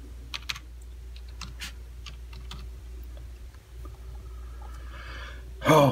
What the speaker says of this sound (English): we'll just type in blaster